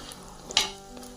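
A paratha fries in ghee on a pan with a soft, steady sizzle, broken by one sharp crackling burst midway, then settling back to a gentle frying hiss.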